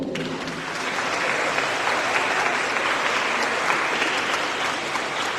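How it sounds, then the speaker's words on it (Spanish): Hearty audience applause at a children's book reading event, steady and sustained clapping from a crowd that builds and holds at full strength for several seconds without talk. "los aplausos fuertes"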